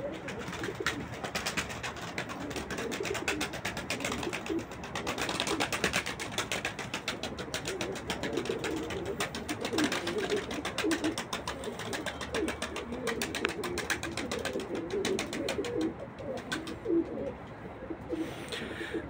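Tumbler pigeons cooing on a rooftop, several soft repeated coos over a constant rustle and flutter, fairly close and moderately quiet throughout.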